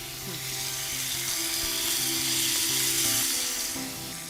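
Potato and cauliflower sizzle loudly and steadily in hot oil, a constant frying hiss with faint stirring and a low background hum.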